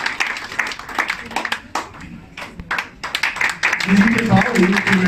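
At a restaurant event in Madagascar, an audience claps in uneven bursts of applause while a voice speaks over it and the clapping swells toward the end.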